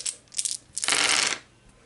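Dice rolled during a Pathfinder Skull and Shackles tabletop game, a bright rattling clatter across a hard surface in two quick bursts, close and alone.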